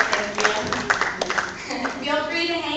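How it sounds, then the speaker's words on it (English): Scattered clapping from a small audience at a manatee feeding presentation in a South Florida museum, with sharp hand claps mixed under a speaker's ongoing talk. "Give yourself a round of applause."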